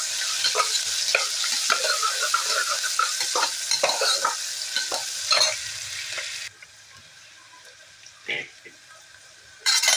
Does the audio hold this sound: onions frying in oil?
yes